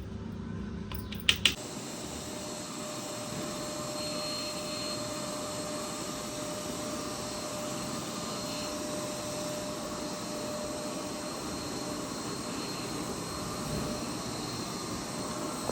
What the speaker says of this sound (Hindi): ये जाली ब्लॉक पड़ी है इसीलिए तो नहीं खींच रहा अच्छे से वैक्यूम